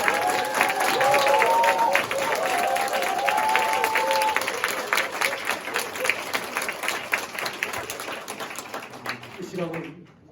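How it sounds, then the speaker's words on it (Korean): A church congregation at a pastor's installation service applauds warmly, dense clapping that thins out toward the end, with voices speaking over it. "파단할 때 다시 한번 힘찬 박수로"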